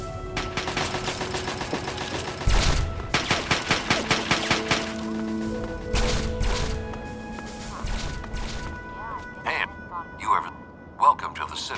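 Gunfire in the Fallout 3 video game: rapid bursts of automatic shots and heavy impacts, then scattered single blasts and thuds, loud and close, with in-game voices talking over parts of it.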